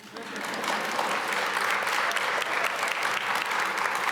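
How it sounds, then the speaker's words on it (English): An audience at a ceramics conference session bursts into steady, dense applause that swells within the first half second and holds loud to the end. "Ceramic, you can clap."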